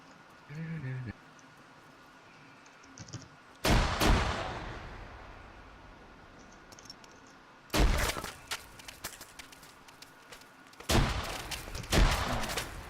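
Grenades explode one after another on a Russian equipment training range, three loud sharp blasts spaced several seconds apart, each trailing off in a rumbling decay, with brief voices early on.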